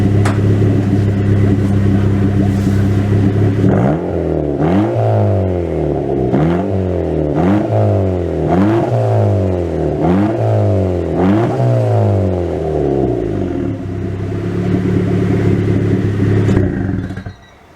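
An LS-swapped Nissan 350Z, running rich, idles loudly nearby, then takes about six short, light revs in an even rhythm that each climb and fall back before the idle settles and cuts off.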